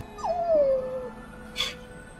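A stray dog whimpers for food in a single drawn-out, falling whine lasting about a second, close and fairly loud, followed by a brief higher yelp-like sound over steady background noise.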